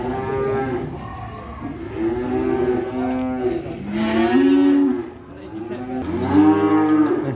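Limousin cattle, cows and bulls penned together, lowing in loud, long, drawn-out moos close by, one call running into the next with brief breaks, no voices.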